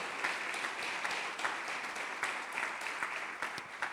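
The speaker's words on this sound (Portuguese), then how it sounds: "Você pode aplaudir o Senhor" A church congregation applauds during a Sunday family service, a fairly quiet but continuous patter of many hands clapping with a loose rhythmic pulse.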